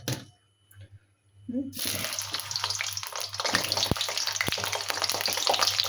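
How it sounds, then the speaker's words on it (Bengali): Potato pieces go into hot oil in a kadai. A near-silent start gives way abruptly to a loud, steady close-up sizzle punctuated by a couple of sharp pops. "এইবারে তেলের মধ্যে আলু দিয়ে আলুটা একটু ভেজে নেব"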